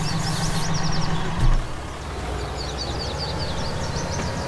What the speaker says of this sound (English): Should we turn the engine off first?